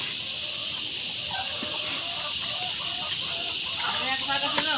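Chickens on a provincial farm cluck intermittently at a moderate distance over a steady hissing outdoor background, with a few louder calls toward the end.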